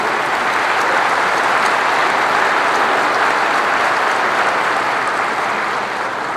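An audience at the 2012 Philippine State of the Nation Address applauds in a dense, sustained wash of clapping, loud and even from start to finish with no pause or voice.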